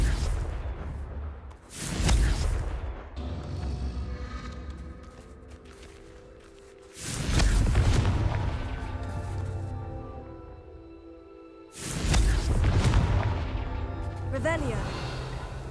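Three Confringo explosion spells go off in a Harry Potter video game, each a loud, booming blast with a whooshing burst that rumbles and fades, spaced roughly five seconds apart, with game ambience between them.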